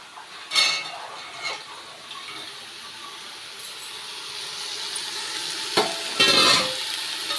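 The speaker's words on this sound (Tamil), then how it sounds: "வெங்காயம் தக்காளி எல்லாமே வந்து நல்லா வதங்கிடுச்சு இது கூட வந்து கொண்டக்கடலை கழுவிட்டு வச்சுருக்குறோம் அதையும் சேர்த்துக்கலாம்" Onions, tomatoes and chickpeas sautéing in a pan under a steady sizzle, with close metallic clinks and scrapes from stirring now and then.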